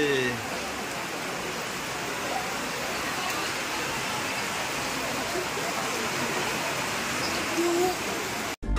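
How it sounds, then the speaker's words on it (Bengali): Dense, steady rain pours down at a seaside hotel in Digha with a constant loud hiss, a few faint tonal calls and sounds poking through the downpour. "বিশাল বৃষ্টি হচ্ছে।"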